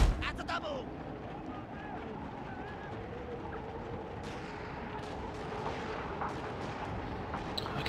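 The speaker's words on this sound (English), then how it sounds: "Hear guns going off" Gunfire rolls across a battlefield in the Shogun 2: Fall of the Samurai strategy game, with scattered distant shots and booms over a constant low rumble of battle ambience and someone talking.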